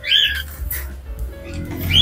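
A pet budgie or cockatiel squawks sharply several times at close range, shrill harsh calls at the start and end with quieter chatter and handling noise between them.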